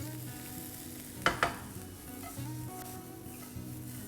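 Vegetables and American corn are stirred in a hot pan for a red-sauce spaghetti, with a steady soft sizzle and two sharp scraping clacks from the stirring.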